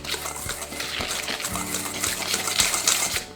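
Custard mixture with vanilla extract being whisked by hand in a bowl, a steady wet rhythmic beating of the whisk heard up close with no talk.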